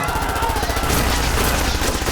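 Dense, continuous gunfire from a film battle scene, a fast rattling fusillade like machine guns firing in rapid bursts, loud and sustained throughout with a faint voice mixed in.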